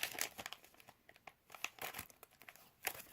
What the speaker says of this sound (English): I think if I only get this little part open, I'm able to reuse the baggie.